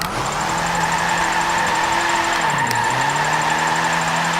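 Engine of a 200-horsepower 1968 Meyers Manx in Forza 7, a loud steady growl with a brief dip and recovery in pitch partway through, close and continuous without talk.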